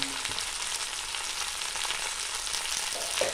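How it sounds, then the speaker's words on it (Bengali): Spices for a prawn curry with taro stolons sizzle and are stirred in a hot pan, a steady close frying hiss with light scraping from the stirring throughout. "এবার সব একসাথে নাড়িয়ে দেবো।"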